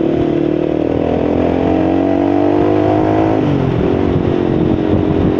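A 250cc motorcycle engine idles steadily with a low, even droning rumble, close and continuous, shifting slightly in tone near the end.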